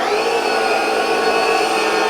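A Lindhaus encapsulation carpet cleaning machine runs with its brush spinning at 4,000 RPM, giving a loud, steady, close-up vacuum-like whine and hum that holds unchanged throughout.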